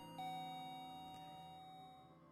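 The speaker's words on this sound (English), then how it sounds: "the doorbell buzzes" A doorbell in a video game sounds a single sustained electronic tone that decays slowly, quiet and alone.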